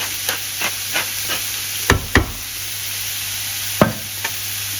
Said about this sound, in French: et on va mélanger